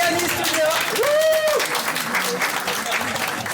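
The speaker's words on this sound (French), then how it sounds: "allez, on applaudit" A festival audience applauds with dense, steady clapping across the whole stretch, while a voice rises in a brief vocal sweep over the crowd noise.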